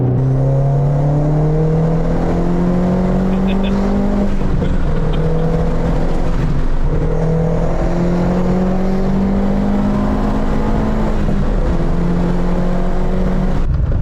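A turbocharged Cupra engine pulls hard through the gears from inside the cabin, loud rising drones broken by brief shift dips, a sustained wall of engine noise with no speech.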